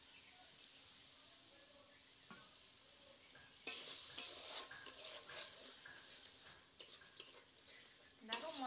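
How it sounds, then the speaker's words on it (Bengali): Spice paste being stir-fried in a pan after a splash of water. A soft sizzle starts out quiet, then a louder burst of frying hiss and stirring scrapes follows, with occasional sharp spatters. "দেখো মশলাটা আমার ভালো করে কষানো হয়ে গেছে।"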